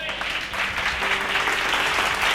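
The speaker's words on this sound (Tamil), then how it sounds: "கைத்தட்டுங்க" A church congregation claps during a Bible study message, a steady crowd of hands applauding for a couple of seconds, moderately loud with a faint hum behind it.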